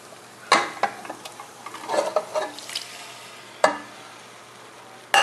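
Pork goes into a hot pan with sesame oil for a Thai-style pork rib stew, giving a sizzle with scraping stirs and a few sharp clinks of utensil on pan, close and fairly loud.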